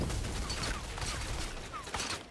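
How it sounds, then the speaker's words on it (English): Incendiary grenade going off in the video game Rogue Company, a dense crackling burst of fire and gunfire-like pops layered with other game noise, continuous and moderately loud over a couple of seconds. "that incendiary grenade is fucking fun"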